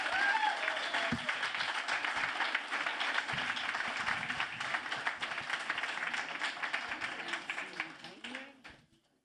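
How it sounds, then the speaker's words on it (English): Steady applause from an audience fills the space, sustained clapping that gradually fades out at the end. "Say hello and a round of applause to Marlena Maduro Baraf."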